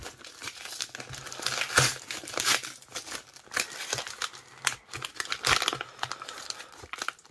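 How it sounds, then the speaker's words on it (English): Scissors or a blade cutting through the tight wrapping of a Montblanc fountain pen package, producing close crinkling, tearing plastic and paper in irregular bursts with no speech. "I've made a little breach and I will continue to cut it."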